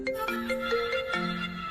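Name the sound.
phone ringtone, incoming call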